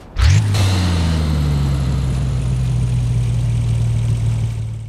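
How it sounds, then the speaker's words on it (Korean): A Mercedes-AMG One's stock-turbo engine in Forza Horizon 5 starts with a quick rev, then settles into a steady, loud low idle that hums on with no voices. "여러분들 엔진 소리 들어볼게요"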